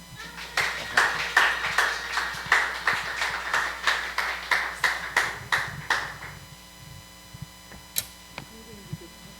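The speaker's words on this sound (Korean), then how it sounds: "우리 박수로 응수하겠습니다" Applause from a congregation gathered at a night worship service, a run of distinct hand claps with a steady rhythm for about six seconds. It then stops abruptly, leaving low room hum and a couple of isolated taps.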